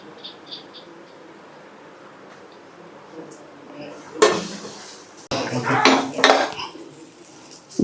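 A metal lid clatters onto a cooking pot, with a few clanking, scraping knocks in quick succession against quiet kitchen background.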